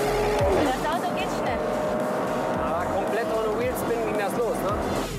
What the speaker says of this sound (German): Jedes PS setzt der SKN Audi R8 in Vortrieb um.